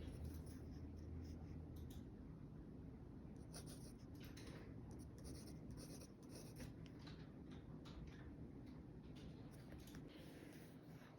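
A pen dipped in ink writes a name on paper, making a faint, close scratching and rubbing with short strokes and pauses against quiet background hiss, with no talking.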